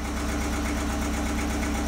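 A tractor engine idles with a steady low, even throb, loud and close, with no other sounds over it.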